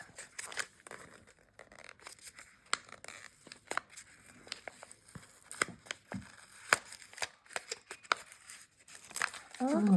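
Plastic wrapping around painted wooden tokens for a cooperative Lord of the Rings trick-taking card game crinkles and tears in quick, irregular bursts up close, with brief rustling pauses between pulls.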